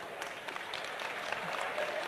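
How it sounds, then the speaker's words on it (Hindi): A large crowd at a mass wedding ceremony for brides from poor families at Bageshwar Dham breaks into dense, steady applause that sounds distant and fairly soft, with faint voices underneath. "जोरदार ताली बजाओ"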